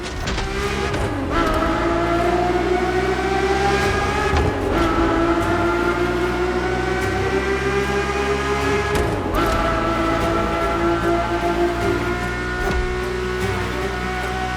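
A Ferrari F50's normally aspirated V12 screams steadily at high revs in The Crew Motorfest, a loud continuous engine note with brief gear-shift dips, heard alone without any voices.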